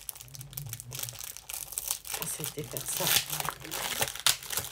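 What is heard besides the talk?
paper sheets crinkling as unfolded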